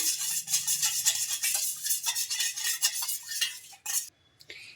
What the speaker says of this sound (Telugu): ఇంకా ఈ సాల్ట్ వేసుకున్న తర్వాత ఒకసారి బాగా కలిపేసుకుందాం